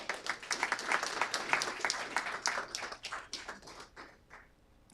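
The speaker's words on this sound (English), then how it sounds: "I would like to make sure we give him a good round of applause" Audience applause at a city council meeting honoring 15 years of service, with steady, moderately distant clapping from a crowd that thins and fades toward the end.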